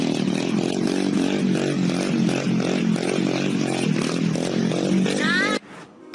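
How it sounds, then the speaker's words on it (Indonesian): Blue motorcycle ridden recklessly on a road, a buzzing revving engine roaring steadily and loudly close by, cutting off abruptly near the end. "Perhatikan pengendara yang memakai motor berwarna biru ini."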